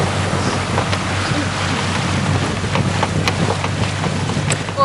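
Wind blows steadily across an anchored sailboat, a constant dense rushing with faint water movement and occasional small knocks underneath.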